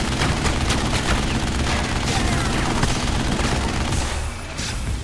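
Rapid gunfire and explosions from the co-op video game Narco Terror fill the scene with a dense, continuous barrage of shots and blasts throughout, with a voice briefly heard over it.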